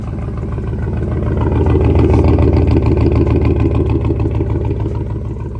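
A Ford F-250's 7.3-liter gas engine idles and revs with a deep, throbbing rumble, swelling louder briefly before settling, close by with no talking.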